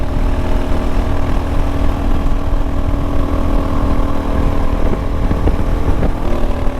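A Suzuki DRZ400 motorcycle with a newly fitted Rekluse clutch is ridden, its engine droning steadily and loudly close up with slight rises and falls in revs, under continuous wind rush, and no talking.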